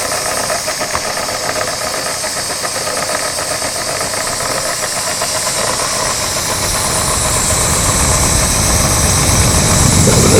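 A model ship engine in an engine-room diorama runs on compressed air from a compressor, producing loud continuous hissing and a rapid mechanical chuffing that grows slightly louder toward the end, with no voices.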